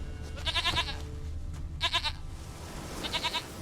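Goat bleating in The Witcher 3 video game, three separate wavering bleats spaced out over quiet background ambience, fairly close and clear.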